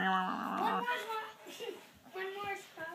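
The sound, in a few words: puppies whimpering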